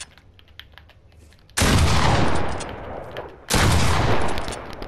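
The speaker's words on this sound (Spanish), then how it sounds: "Vale, ahora es con la escopeta." Two loud shotgun blasts from the Fortnite video game, the first about midway and the second close after, each with a broad burst that decays over a second or more, over quiet background clicks.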